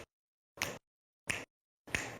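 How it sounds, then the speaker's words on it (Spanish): Three crisp, isolated finger snaps spaced evenly about two-thirds of a second apart during a school body percussion exercise, each sharp and close with silence between, no voices. "También vamos a utilizar chasquidos."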